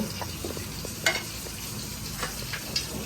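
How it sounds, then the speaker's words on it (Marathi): Gram flour (besan) is dry-roasted in a pan for a crab recipe, giving a soft steady crackle and hiss with a few sharper scrapes of a spoon against the pan, close and fairly quiet, no voices. "थोडंसं लाईट बेसन भाजून घ्यायचं"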